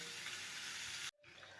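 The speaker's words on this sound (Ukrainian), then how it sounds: "Так, в мене м'ясо смажиться, смажиться, підсмажиться." Pork ribs sizzle and fry in an open pan during home cooking, a steady, close hiss that breaks off abruptly near the end, then returns more quietly.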